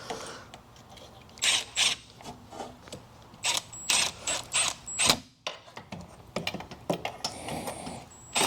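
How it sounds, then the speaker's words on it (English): A ratchet spins bolts into a Walker mower's right side hydro drive during reinstallation, giving close, repeated bursts of metallic clicking separated by short pauses. "Just running the bolts in with this."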